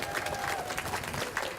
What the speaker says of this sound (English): Big round of applause for Sugar Cube.